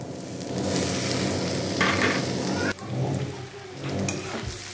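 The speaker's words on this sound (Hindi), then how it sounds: "अब इसमें डाल देते हैं चावल।" Rice being added to a hot pan and stirred for sweet rice, giving a continuous loud sizzle with scraping stir sounds and a brief clatter partway through, with no talking.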